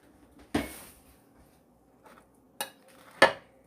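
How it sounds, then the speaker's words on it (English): Pans of cottage pie filling get stirred with a spoon, giving a few separate metallic clanks and scrapes with quiet gaps between. "I'm going to get a spoon so I can give these a stir"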